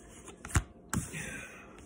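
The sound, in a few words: shuffling playing cards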